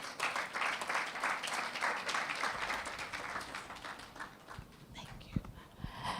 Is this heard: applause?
yes